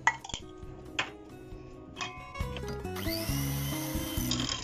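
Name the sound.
mixing apple cake batter with sugar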